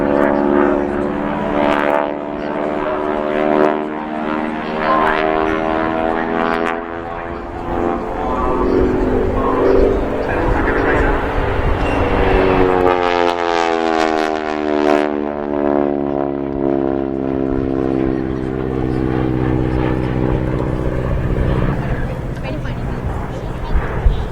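A North American Harvard 2B propeller trainer flies past at an RAF Cosford air show, its engine drone swelling loud with a pitch shift as it passes overhead, while a commentator talks over it.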